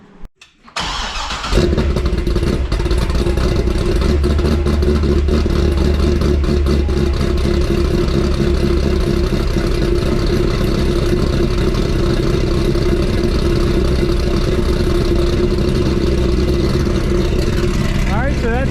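A Corvette C6 V8 with a Corsa exhaust fires up after a short pause and settles into a loud, steady, deep idle that rumbles on close by for the rest of the time, alone without voices.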